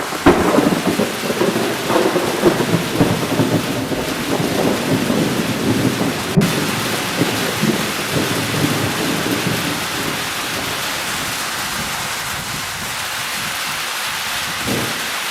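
Heavy rain falls steadily outdoors with rumbling thunder, loud and close at first, then the downpour thins and softens toward the end, with no voices.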